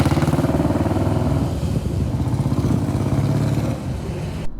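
A motorcycle engine thrums loud and close while riding along, a steady rough mid-pitched pulse that barely varies, with no talking.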